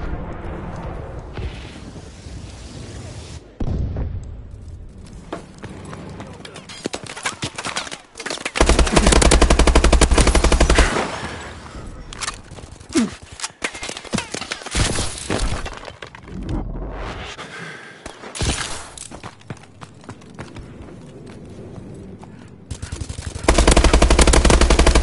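Gunfire, shattering impacts and heavy explosive bursts from an enemy bombing run in a PS4 shooter game, loud and dense, with sustained booming stretches and rattling fire throughout.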